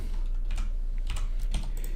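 Typing on a computer keyboard: a few quick, close key clicks in short irregular bursts, with quiet gaps between them and no voices.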